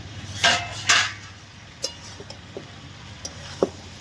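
A metal lid being lifted off a cooking pot holding a large fish head dish, with two sharp clanks of metal on metal followed by lighter taps and clinks scattered over a faint background hum.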